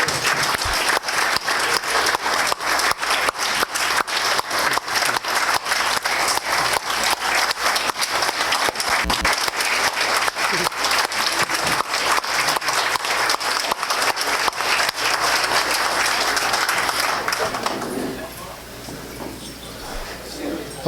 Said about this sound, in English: Let's give a big round of applause for all the students.